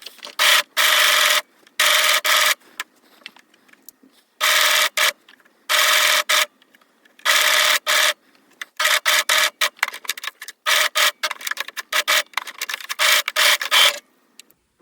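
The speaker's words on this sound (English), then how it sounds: "I will use the sewing machine for this part." Bursts of mechanical motor whirring start and stop repeatedly, loud and close, as a sewing machine stitches fabric for a child's top in short runs with quiet pauses between.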